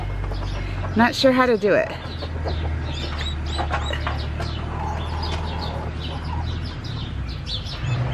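A broody hen clucks and squawks near her chicks, one loud, close burst of cackling followed by softer murmuring clucks while a person talks over it.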